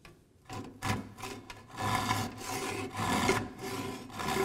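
A pull saw crosscutting wood against the grain makes a series of rasping strokes, several quick close cuts followed by longer, steadier scraping passes, fairly quiet with no voices.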